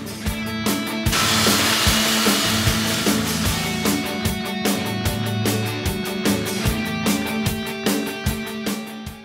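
A power sander with 80 grit sandpaper works over a wooden deck, a loud, continuous close whirring drone with a rapid regular rattling pulse throughout, no voices.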